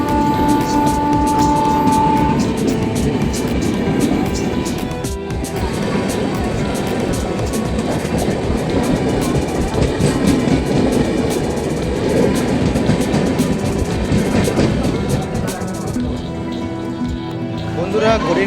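Doon Express passenger train running on rails at a station area, loud continuous rumbling with rhythmic clickety-clack of wheels, dense and close, easing near the end; voices are faintly mixed in.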